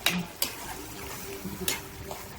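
Prawn mince is stirred in a pan over high heat, with a few sharp scrapes and clinks of the spoon against the metal over a faint sizzle, close by and with no talking.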